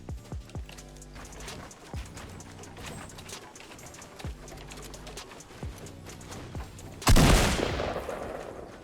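A gunshot in the video game Fortnite: a loud, sudden burst near the end, cutting over a steady game soundscape of repeated thumps and clicks.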